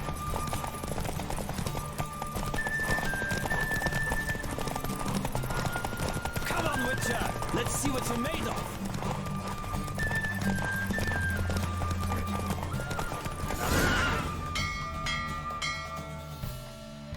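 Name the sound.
horse galloping hooves in a video game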